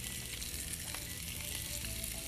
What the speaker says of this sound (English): so let's add the potatoes into the olive oil. And you just want to toss this around.